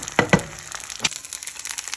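Eggs frying in a pan, a continuous crackling sizzle with a few louder pops and scrapes near the start, close and alone without speech.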